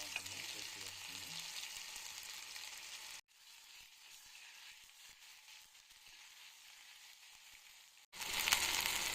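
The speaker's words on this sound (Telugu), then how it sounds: "అల్లము వెల్లుల్లి పేస్ట్ చేసిన పచ్చి వాసన పోయే వరకు వేయించుకోవాలి" Ginger-garlic paste sizzles steadily in a pan for mutton paya curry, a loud hiss that drops to a quieter simmer partway through before flaring up again near the end.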